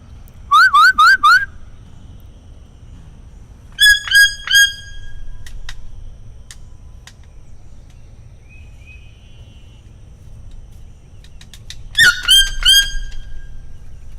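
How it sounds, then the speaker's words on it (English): A wild bird calls outdoors with a voice much like a pet toucan's: three short bursts of rapid, squawky whistled notes, the first near the start, another about three seconds later and a last one near the end, over faint background noise. "There's a bird that sounds kind of similar to Rhea."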